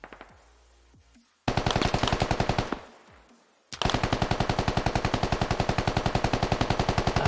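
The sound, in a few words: gunfire in the video game Squad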